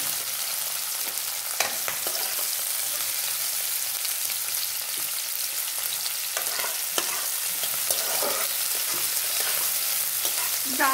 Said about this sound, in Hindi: ज़्यादा नहीं हल्का सा इसको फ्राई करूँगी।